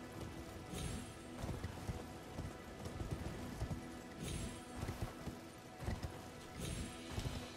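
Soft rhythmic clip-clop of horse hooves trotting steadily in the video game Elden Ring, faint and continuous with a light background hum.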